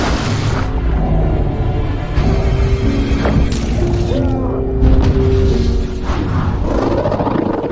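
Dense, loud cinematic explosion with heavy low booms, crashing debris and layered rumble filling the whole stretch, under a faint narrating voice.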